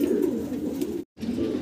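Pigeons coo close by in a pigeon collection, a low, continuous throaty cooing broken by a brief pause, with no voices.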